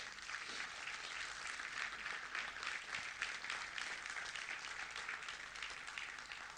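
A church congregation applauding at a sermon, a steady wash of many hands clapping throughout, fairly quiet and distant-sounding with no talk over it.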